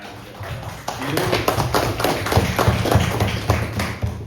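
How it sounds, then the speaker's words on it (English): A crowd claps through a round of applause at the opening of the first trout wrangling competition in Mechukha, Arunachal, steady dense clapping with some thumps, no talk over it. "big round of applause to Dr."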